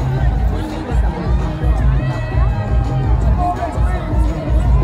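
Rally crowd in San Francisco for Bernie Sanders, a dense hubbub of chatter and scattered shouts close by, with voices talking over the constant babble.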